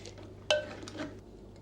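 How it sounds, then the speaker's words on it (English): A spatula scrapes cooked hot-process soap into a pot, opening with one sharp, close metallic clank followed by brief, soft scraping. "Use my spatula and get it all in."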